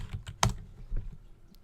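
Keys clacking on a computer keyboard, a short close burst of taps with one sharper stroke near the start and softer presses trailing off, no voice present.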